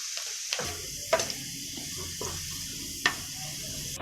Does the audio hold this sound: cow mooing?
no